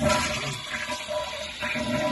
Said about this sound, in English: let's see what happens when you flush the toilet